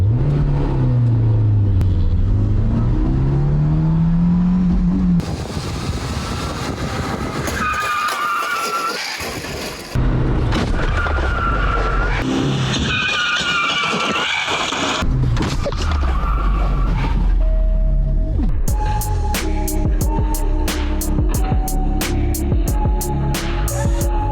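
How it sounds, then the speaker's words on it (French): A car engine revs and roars, followed by a loud crash impact as the car hits a scooter at 50 km/h, scraping and skidding, then an alarm-like repeating beeping. "On va percuter un scooter à 50 km/h."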